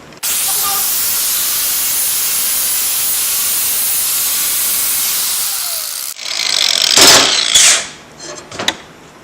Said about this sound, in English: Just always buy non-chlorinated brake clean, spray it on whatever you want